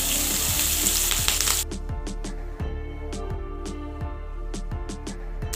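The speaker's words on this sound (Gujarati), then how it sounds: "તેલ ગરમ થઈ ગયું છે પહેલાં આપણે હિંગ એડ કરી દઈશું આખું જીરું એડ કરી દઈશું કટિંગ કરેલા લીલા મરચાં એડ કરી દઈશું" Asafoetida, whole cumin and chopped green chillies hit hot oil in a pan, giving a loud, steady crackling sizzle with scattered pops and clinks throughout.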